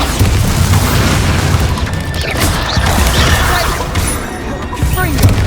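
Bombarda blasting spell from the video game Hogwarts Legacy: loud, dense booming explosions and crashing debris rumble continuously amid busy combat effects, with a voice partly mixed in.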